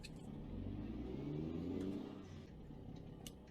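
A truck engine in American Truck Simulator, hauling from Price to Cedar City, Utah, swells into a steady rev, peaks, then eases back to a lower drone, close and continuous with no talking.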